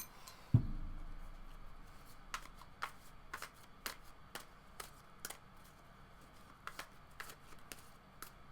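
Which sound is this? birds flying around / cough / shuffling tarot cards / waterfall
shuffling tarot cards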